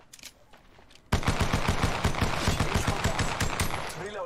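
Rapid automatic gunfire from Apex Legends Mobile erupts after a quiet second, a dense, loud burst of repeated shots that keeps up to the end.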